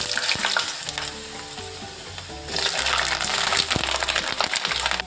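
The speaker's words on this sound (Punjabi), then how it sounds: "ਸਭ ਤੋਂ ਪਹਿਲਾਂ ਅਸੀਂ ਇਹਦੇ ਵਿੱਚ ਆਲੂ ਪਾ ਕੇ ਫਰਾਈ ਕਰਾਂਗੇ" Potatoes frying in hot mustard oil in a kadai, a loud steady sizzle with clinks of a spoon stirring and scraping against the metal pan, growing louder partway through.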